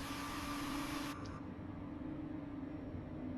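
Airbus A220 jet engines in Microsoft Flight Simulator hum as a steady broadband roar with a sustained tonal whine, loud and continuous throughout, brighter at first and then slightly muffled.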